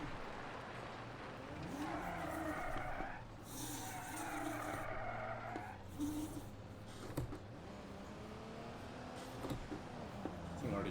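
A race car in a career-mode driving game, fitted with a limited-slip differential, drifts through corners with sustained tire squeal over a steady engine drone, the screech swelling and fading several times.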